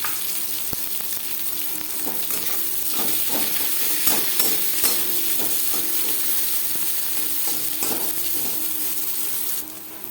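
Sliced onions frying in oil with panch phoron spices for a masoor dal and chichinga dish, a steady close sizzle with repeated stirring scrapes and clatters throughout.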